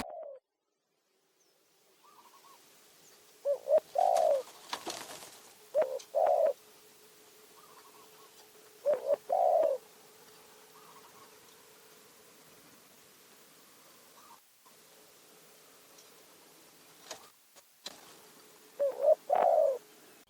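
A dove coos in short repeated phrases, spaced apart, over a quiet steady hum; the coos are clear and fairly close.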